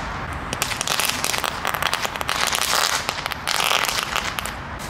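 Ground bloom spinner fireworks, German consumer pyrotechnics, crackle loudly and continuously with dense rapid pops and sizzling bursts that swell and ebb over several seconds, close by.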